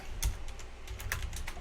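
Quick keystrokes on a computer keyboard, a short run of soft clicks and taps at close range, heard alone without speech.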